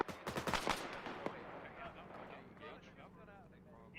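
Rapid gunfire crackles in a military video game, a dense burst of close shots in the first second or so, then scattered reports under radio-style voices and background noise.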